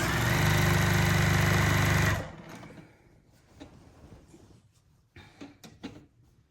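A sewing machine stitches binding onto a quilt, running loud and steady for about two seconds before stopping. Soft handling clicks and knocks follow.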